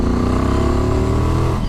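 Ducati XDiavel V-twin motorcycle pulling hard in third gear from low revs, a loud, close, steady rumbling engine note with a slight rise in pitch, no talk.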